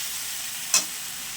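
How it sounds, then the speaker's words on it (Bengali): Eggplant and potato fry with spices in a pan, a steady bright sizzle with one short scrape of a stirring spoon partway through. "আর বেগুন আলুটা খুব ভালো করেই কষিয়ে নেওয়া হচ্ছে।"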